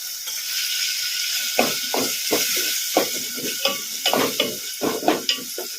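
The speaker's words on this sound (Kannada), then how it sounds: "ಟೊಮೊಟೊ ಒಂದು ಸ್ವಲ್ಪ ಮೆತ್ತಗಾಗೋವರೆಗೂ ಫ್ರೈ ಮಾಡ್ಕೋಬೇಕು ಮೀಡಿಯಮ್ ಫ್ಲೇಮಲ್ಲಿ" Tomatoes frying in a pan over a medium flame, a constant sizzle broken by repeated scraping stirs of a spoon, close and fairly loud with no talking.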